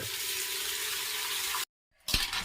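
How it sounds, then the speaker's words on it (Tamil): Palmyra sprouts are washed in water, giving a steady rushing, splashing wash that cuts off into a brief silence before a fresh splash. "இதை நம்ம வாஷ் பண்ணிக்கணும், அதாவது தண்ணியில் போட்டு அலம்பிக்கணும்"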